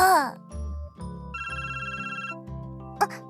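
A smartphone rings in the visual novel Café Stella and the Reapers' Butterflies, its melodic electronic ringtone chiming steadily for about a second over soft background music, with short voice snippets before and after.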